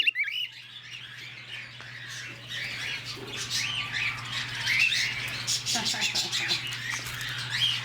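Many small birds, including a cockatiel, chirp, tweet and squawk together close by in an aviary, with occasional wing flutters over a low, constant hum.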